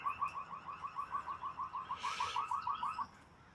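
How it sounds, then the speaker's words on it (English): A rapid electronic alarm chirps in a fast steady pulse, about five beats per second, then cuts off abruptly; a brief rustle near the end. "I know you heard the alarm."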